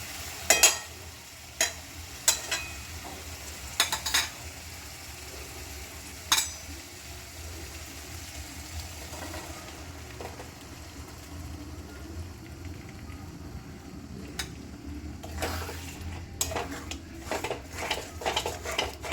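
Spinach paste being stirred into fried masala in a pan, with scattered sharp clinks of a spoon against metal over a low steady sizzle, busier clattering toward the end.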